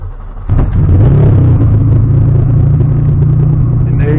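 A tuned car engine catches after cranking and settles into a loud, close, steady run with a rough idle hum, with no talk.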